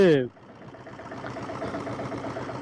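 A 1976 diesel Bullet motorcycle engine runs steadily at close range, a low, even chugging thrum that holds throughout after a brief voice at the very start.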